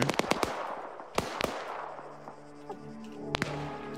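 Mines detonate in an Arma Zeus op video game, a quick cluster of sharp blasts at the start followed by two more isolated bangs and a later one, each leaving a short decaying rumble amid low game hum.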